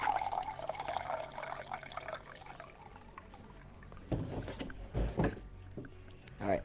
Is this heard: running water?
yes